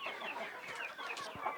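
Native country chickens on a terrace farm cluck in soft, overlapping bursts at close range, a steady low murmur of fowl chatter with no talk.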